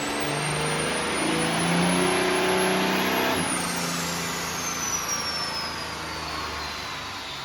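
A 1500-horsepower Cummins diesel on a dyno, running loud and steady at high revs with turbo whine, then easing off as the pitch slides down, with no talk.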